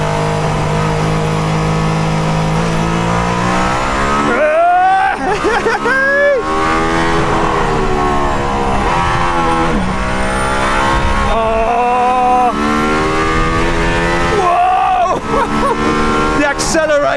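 Mercedes-AMG ONE accelerating hard on the Nürburgring track, its high-revving engine climbing and shifting repeatedly out of turns, loud and close throughout, with a voice talking over it.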